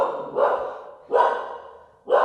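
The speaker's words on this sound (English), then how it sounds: "now she did, and she's going to start barking" A dog barks indoors in three deep, separate barks spaced about a second apart, close and loud with a breathy tail after each one, alone with no talk.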